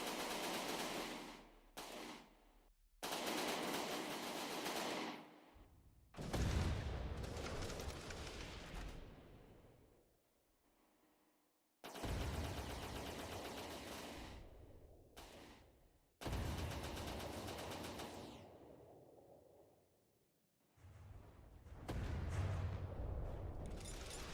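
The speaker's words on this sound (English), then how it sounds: "Is that cannon even hitting?" Repeated cannon fire from the naval combat game From the Depths comes in dense, loud bursts of rapid booming shots lasting a few seconds each, separated by brief silent gaps.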